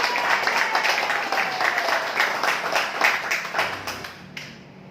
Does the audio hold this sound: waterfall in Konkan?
no